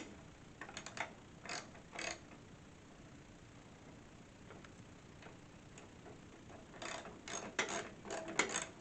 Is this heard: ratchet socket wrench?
yes